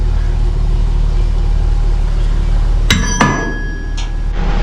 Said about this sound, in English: now we just gotta pound these holders in